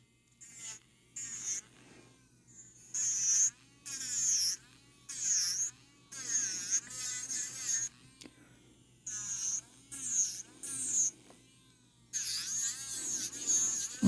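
An electric nail drill spinning at about 14,000 RPM buzzes in short, repeated bursts as it touches the nails and cuticles, a thin high whine separated by quiet pauses, close and fairly soft.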